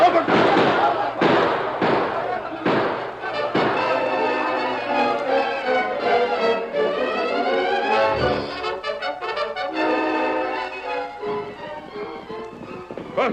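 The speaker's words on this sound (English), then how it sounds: "To your post, men. Open fire." A rapid burst of sound-effect gunfire opens a radio-drama battle, loud sharp cracks and thuds in irregular succession, with voices shouting over the fighting.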